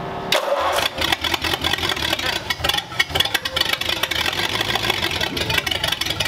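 Flathead engine in a DeLorean Roadster cranking and catching, then running roughly and loudly up close with uneven chugging pulses.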